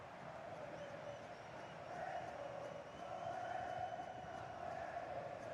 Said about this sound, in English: Well, just listen to the crowd. They know this is a big chance to equalise.